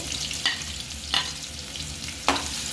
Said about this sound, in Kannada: ಈಗ ಇದಕ್ಕೆ ಎಣ್ಣೆ ಕಾಯ್ದಿದೆ, ಈರುಳ್ಳಿ ಹಾಕ್ಕೊಳ್ತೀನಿ.